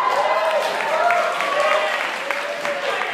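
A college audience at a Bucket Boys percussion show claps steadily and densely, the applause mixed with cheering and voices from the crowd.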